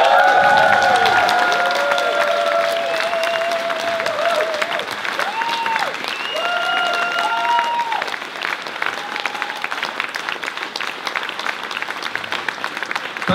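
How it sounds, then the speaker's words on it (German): A concert crowd at an outdoor peace festival claps and cheers loudly, the applause thinning slightly toward the end while faint tonal music or whistles drift over it. "Danke für den Applaus"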